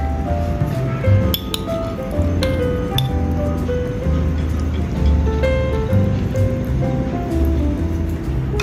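Egg and olive vegetable are stirred together in a glass bowl, giving loud, close clinking taps and wet squishing in an irregular rhythm, with no talking.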